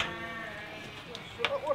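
A sheep bleats in a long, wavering, nasal call up close, followed by shorter bleats, with faint rustling and voices in the background.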